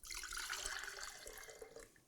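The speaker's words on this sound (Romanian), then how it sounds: "voi începe cu lichidele, adică cu apa, care este călduță" Lukewarm water poured into a bowl as the first liquid for a langos dough, a steady close splashing trickle that runs throughout and tapers slightly toward the end, with no voices.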